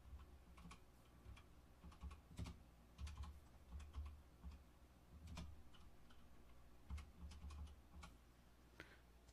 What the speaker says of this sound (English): Typing away for nothing.